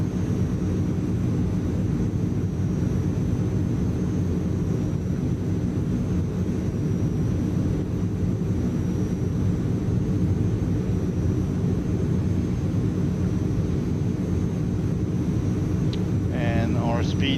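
Steady, loud low drone of Transall C160 turboprop engines in Microsoft Flight Simulator, a continuous broadband hum with tonal layers that holds without change, and a brief chirping sound near the end.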